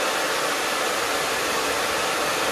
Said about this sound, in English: you don't want to melt the plastic and you don't want to damage the hair dryer.